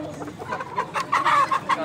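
Chickens cluck at a busy poultry market in Cachoeirinha, Pernambuco, a dense run of close clucks and calls over a noisy background of market chatter.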